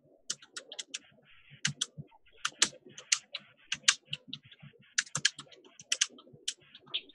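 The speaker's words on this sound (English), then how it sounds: "who's typing really loud?" Loud typing on a computer keyboard, rapid irregular bursts of sharp key clicks in clusters with short pauses, close to the microphone.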